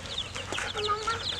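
Fancy chickens in a farm flock cluck softly and continuously at close range, with short chirps and murmurs overlapping.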